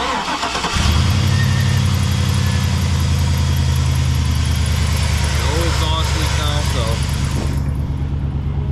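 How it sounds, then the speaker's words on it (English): A truck engine starts and settles into a steady, loud idle with a deep rumbling exhaust after an exhaust leak repair, running continuously and close by with no talking. "then I'll start the truck up so it can hear that there's no exhaust leak"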